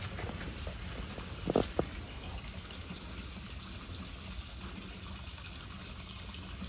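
An Aiper Scuba Pro S1 robotic pool cleaner runs in pool water, giving a steady wash of churning water with a brief louder splash near the start, close by.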